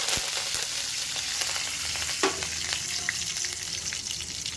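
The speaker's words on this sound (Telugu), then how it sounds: "ఆవాలు చిట్పట్లాడుతున్నాయండి" Mustard seeds splutter in hot oil alongside grated coconut being fried, a dense steady sizzle with scattered sharp pops and one brief louder crackle, fairly close.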